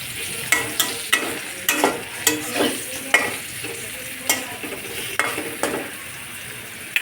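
Sweet pumpkin slices fry in a pan, close to burning, for a vegetarian meal. A spatula stirs and scrapes them in a steady run of sharp, rhythmic strokes over a constant low sizzle, with no voices.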